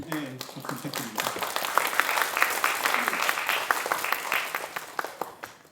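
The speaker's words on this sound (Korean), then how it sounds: "박수 부탁드립니다" Audience applause fills a hall at a 30th-anniversary talk concert, a dense steady clatter of many hands clapping that follows a brief voice at the start and carries on evenly, moderately loud, for several seconds.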